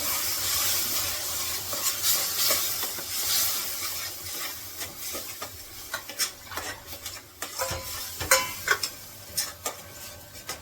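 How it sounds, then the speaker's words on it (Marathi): Rinse water from a mixer jar goes into frying masala in a pan, bringing a hissing sizzle followed by scattered scraping and clinking stirring strokes close by. "हे जे मिक्सरचं भांडं धुवून ठेवलं होतं मी ते ते पाणी घालते"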